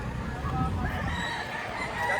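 A rooster crows nearby at an outdoor spot where chickens are being sold, its call rising over background voices and general crowd noise.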